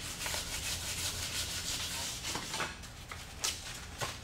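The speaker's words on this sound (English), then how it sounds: "I'm just sanding down those edges, rounding it off where it's supposed to be." Steady rubbing strokes as the edges of a Peavey Reactor guitar body are sanded and rounded off, repeating close and fairly quiet with a few sharper scrapes near the end.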